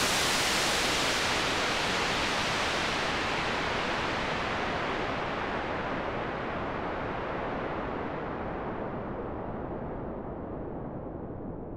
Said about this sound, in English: what happens when I start cutting off frequencies from that white noise.